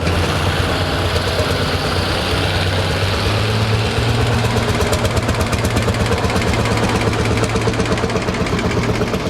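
A 1951 Lanz Bulldog tractor's engine idles steadily and loudly up close at a classic truck and machinery show, a rhythmic low thumping chug with rattling vibration, continuous throughout with no talk.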